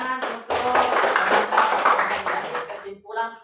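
A classroom group claps together in a dense, sustained burst of many hands, then it stops abruptly and a voice speaks briefly at the end.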